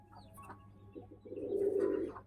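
A pigeon in a backyard loft gives a low, soft coo that swells and holds near the end, after a few faint scattered calls and rustles in an otherwise quiet space.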